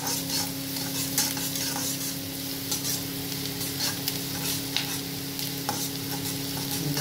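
Onions frying in a pan for a homemade egg curry, a steady crackling sizzle with scraping stir strokes, close and moderately loud, with no talking.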